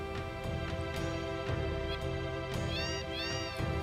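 A cat in Final Fantasy VII meows repeatedly over the game's steady music, several short rising calls in quick succession, clear and close, with no talking.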